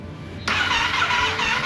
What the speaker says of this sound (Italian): come l'accendete rimane per un po' su di giri